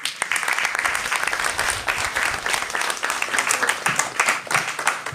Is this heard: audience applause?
yes